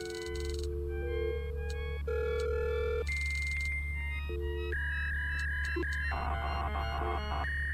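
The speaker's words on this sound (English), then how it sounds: "Why does the dial-up sound like that?" A dial-up modem handshake in the video game KinitoPET: a dial tone and stepped beeping tones, then rising screeches and crackling static noise, all over a steady low hum.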